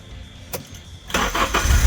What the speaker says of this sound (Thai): มันต้องสตาร์ทรถ